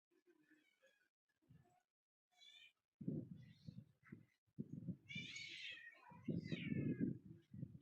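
A cat meows several times nearby, with drawn-out, wavering cries that grow louder toward the end, mixed with low thumps and rustling.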